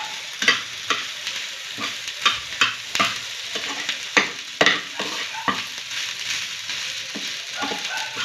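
Egg rice stirred in a frying pan, a spatula scraping in irregular strokes against a soft, constant sizzle, close and fairly loud with no voices.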